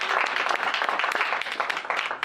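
An audience at a talk event breaks into steady applause, close and full, with dense clapping that carries through to the end.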